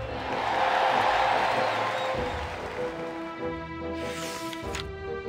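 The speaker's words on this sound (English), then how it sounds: "Ladies and gentlemen, applause for Mercury." A crowd cheers and whoops with scattered clapping, a moderately loud burst that swells early and then thins, under a bed of music, celebrating the winner of a race.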